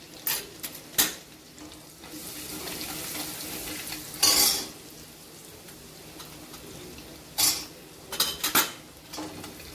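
Spinach bhaji tossed into hot tempering in a pan, with a soft continuous sizzle under several sharp metallic clanks and scrapes of a spoon stirring against the pan.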